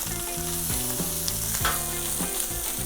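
Rice fries in a pan beneath a resting wagyu steak as its juices drip in, giving a steady, close sizzle and crackle throughout, with music playing underneath.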